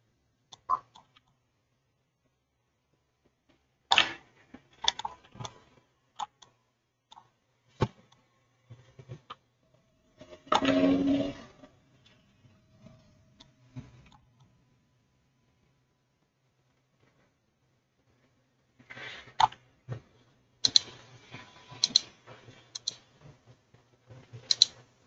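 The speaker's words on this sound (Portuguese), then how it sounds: "agora eu vou digitar shader" Computer keyboard keys clicked and typed in scattered bursts and single taps while working in AutoCAD, with long quiet gaps between, close and moderately loud with no speech.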